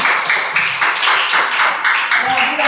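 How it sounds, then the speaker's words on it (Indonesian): A classroom of students claps for a classmate, a bright burst of many hands clapping loudly and continuously for a few seconds at close range. "Tepuk tangan untuk Ina."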